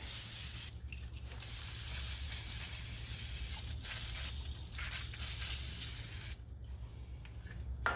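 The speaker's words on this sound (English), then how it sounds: "give it a quick shot of cleaner" Brake cleaner sprayed onto brake parts during front rotor work on a 1997-2004 Buick Regal: a loud, close, steady aerosol hiss broken by a few brief pauses.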